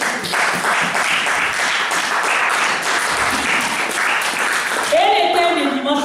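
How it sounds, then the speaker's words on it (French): A church congregation applauds the Lord, sustained dense clapping and cheering filling the room, loud and continuous, with voices rising at the end. "Acclamons pour les Seigneurs."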